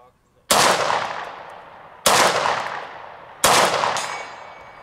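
Three loud, sharp 9mm Beretta 92X pistol shots crack outdoors about a second and a half apart, each followed by a long, fading echo.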